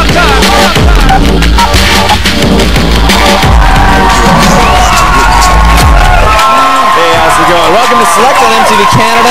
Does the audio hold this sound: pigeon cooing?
no